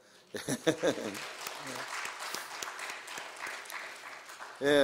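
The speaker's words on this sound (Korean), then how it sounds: "우리 전도사님을 위해서 우리 박수 한번" A church congregation applauds their pastor, many hands clapping at moderate volume after a few voices at the start, with a voice breaking in again at the very end.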